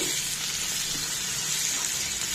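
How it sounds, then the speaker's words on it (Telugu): Onions frying in a pan with fenugreek powder, cumin powder and turmeric, a continuous even sizzle heard close up, with no talk. "ఇంకొక 1 మినిట్ ఫ్రై అవనిద్దామండి"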